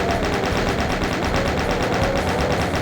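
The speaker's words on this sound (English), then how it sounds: "So many of these guys we can just take out with the chain gun here" The chain gun in Doom 2 fires a fast, unbroken burst of rapid shots at an even rhythm, loud and close, with no talking over it.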